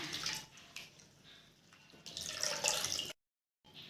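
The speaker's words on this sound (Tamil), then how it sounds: "தண்ணி ஊற்றி கழுவி எடுத்துக்கோங்க" Water poured over flattened rice (aval) while washing it, a steady splashing wash of running water that swells louder toward the end, then a brief silence before the flow resumes.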